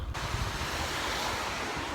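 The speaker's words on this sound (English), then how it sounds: "We're at the sea." Surf breaking steadily at a seashore under gusty wind buffeting the microphone, with a continuous, loud wash of waves and no talking.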